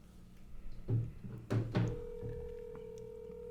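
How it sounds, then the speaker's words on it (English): A phone call rings out through a speaker held up to a microphone, a few dull thunks followed by a steady electronic ringback tone that carries on alone. "Calling you right now, Via."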